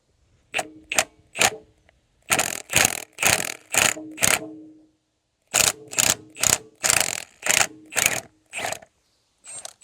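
A ratchet wrench loosening a bolt on a Honda Accord's engine mount, close and crisp, in two bursts of rapid clicking strokes separated by short pauses.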